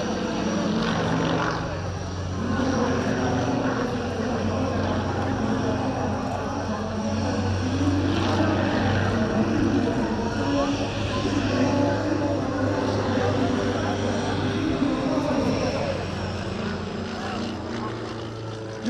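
A Sukhoi Su-31 aerobatic plane flies at a large airshow in Romania, its propeller engine droning steadily and loudly for the whole stretch, with crowd and ambient noise beneath and hints of voices.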